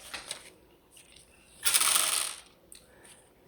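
Small screws scattering and rattling on a work surface during a GameCube controller mod, with a few light ticks and clicks followed by a louder burst of tinkling metallic clatter that fades, close and quiet.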